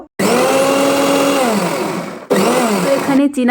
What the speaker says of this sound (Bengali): এটাকে আমি ভালো করে মিক্সিংয়ে পেস্ট করে চাটনিটা বানিয়ে নেব